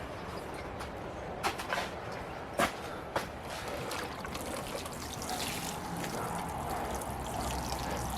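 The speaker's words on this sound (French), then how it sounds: "Et je vais arroser pour terminer." Water trickles and pours steadily onto freshly hand-sown eggplant, onion and tomato seeds, a soft continuous stream with a few faint clicks and knocks early on, and no voices.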